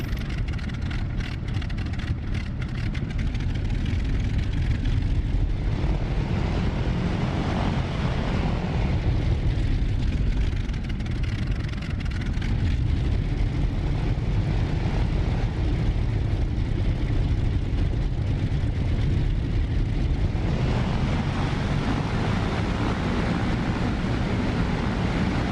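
Fw-190 fighter plane engine in a video game, taxiing on the ground with a steady, loud, rough drone that swells and eases slightly, no talk.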